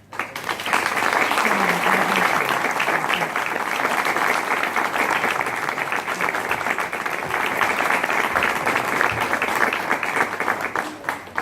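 A concert audience gives a strong round of applause for two performers, a thick, even roar of clapping that swells in quickly and holds steady for around eleven seconds before stopping abruptly.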